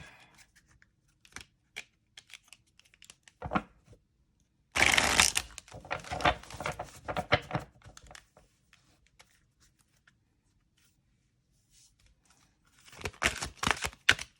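A glossy oracle card deck is shuffled in short bursts, with quick riffling clatters separated by quiet pauses and a longer flurry of card slaps in the middle, close and crisp with no talking.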